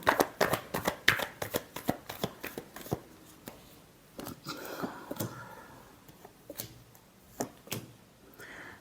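Tarot cards shuffled by hand in a quick run of crisp riffling bursts and taps, close and fairly quiet, pausing briefly midway before a few more sharp shuffles.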